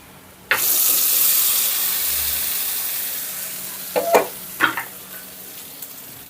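A sharp hot-oil sizzle bursts in as a spice tempering is poured into chutney, hissing steadily and fading slowly, followed by a few clinks and stirring sounds near the end.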